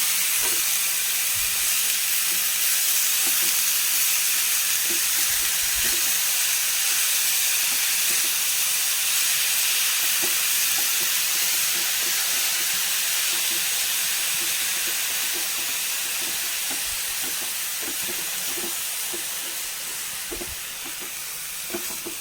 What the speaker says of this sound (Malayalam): വയലറ്റ് ക്യാബേജ് ഇട്ട് കൊടുക്കാം നന്നായി ഇളക്കി